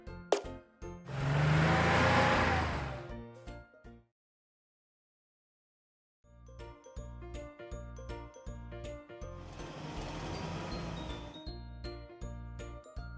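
A car engine revs in a children's vehicle-learning cartoon, rising twice in short swells over bright, tinkling jingly music. A brief silence separates the two bursts.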